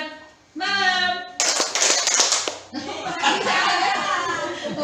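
A group of people clapping hands in response to a greeting game, bursts of sharp claps between stretches of a voice speaking.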